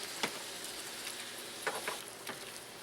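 Shrimp sizzle in a cast iron pan for shrimp scampi, a steady faint frying hiss with a few small pops and clicks scattered through it.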